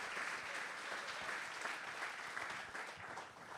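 A church congregation applauds in steady, dense clapping that fills the whole few seconds at a moderate, even level, with no other sound standing out.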